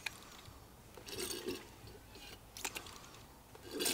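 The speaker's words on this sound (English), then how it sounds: "I got this little Harbor Freight special pump" Small Harbor Freight hand pump pushing ATF DW1 transmission fluid, soft sloshing and gurgling liquid in uneven bursts with squishy pumping strokes, close and quiet, no talking.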